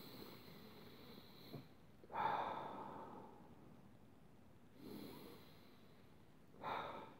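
Several slow, deep breaths are drawn and released at an even, unhurried pace, each a soft whoosh of air close to the microphone, separated by quiet pauses, with no talking.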